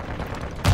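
A grenade goes off in a video game: a sudden deep boom bursts in at the very end, rising abruptly over a steady, muffled background rumble.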